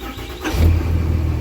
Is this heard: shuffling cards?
no